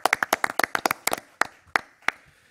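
A small audience at a town council meeting claps in a brief, sparse burst: a quick flurry of distinct hand claps close by that thins out into a few scattered claps before fading.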